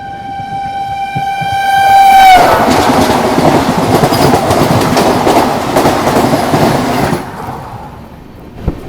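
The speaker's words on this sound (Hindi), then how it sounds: "ये आ गई वाराणसी मेरठ वंदे भारत एक्सप्रेस।" Varanasi–Meerut Vande Bharat Express, a short eight-coach train, overtaking on the line: a loud horn blast up front, then a close, roaring rush of wheels and rattling coaches that fades as it passes.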